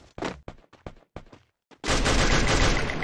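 Gunfire in the mobile battle royale game Free Fire: a handful of sharp single shots in quick succession, then a sustained, loud roar of continuous firing, with no talk over it.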